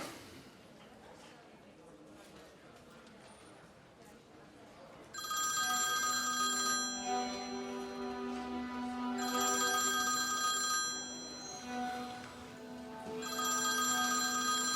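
A mobile phone rings in a room, a loud electronic ringtone starting partway through and repeating in three long bursts after a quiet lead-in.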